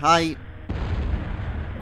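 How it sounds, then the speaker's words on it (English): An explosion sounds off a ship's port bow in the Skies of Arcadia video game, a sudden loud blast followed by a sustained rumbling roar that fills the rest of the moment after a brief voice. "There was an explosion off a port bow."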